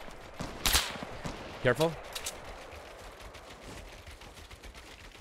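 Gunfire in Fortnite Battle Royale, a few sharp shots and short bursts at moderate distance, mixed with game noise while a person speaks briefly.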